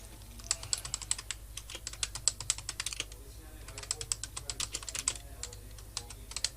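Quick, irregular clicking of a computer keyboard being typed on, close and fairly quiet, in short bursts over a low background hum.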